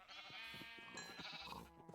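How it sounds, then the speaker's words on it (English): Sheep bleating in the Forever World video game, a baby red sheep: a short, wavering bleat cry, quiet and close, with no talk. "Baby red sheep."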